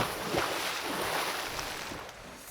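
A boat moves across the water in the video game Teardown, giving a steady wash of water and hull noise with soft low bumps, continuous and moderately quiet, with no talk.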